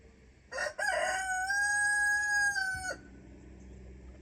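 A rooster crows once, loud and close, a long sustained cock-a-doodle-doo that cuts off sharply, followed by quiet background.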